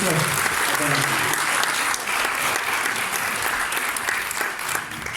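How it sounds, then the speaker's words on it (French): A live crowd at a radio station inauguration applauds for a young guest named Yanis, dense sustained clapping throughout with voices faintly mixed in. "on l'applaudit encore Yanis"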